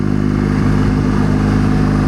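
Motorcycle engine lugging steadily at low revs while riding, a deep, loud, continuous throbbing drone with even rhythm and no speech.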